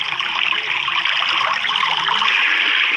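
Storm rainwater trickles and splashes steadily into a mountain cave home dug into the rock, a close, continuous hiss of running and dripping water.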